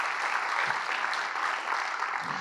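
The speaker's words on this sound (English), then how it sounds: "let's give everybody a round of applause for getting these projects across the finish line" A crowd at the Building a Better Long Beach 2022 event breaks into sustained applause, a thick, even roar of clapping that holds steady throughout.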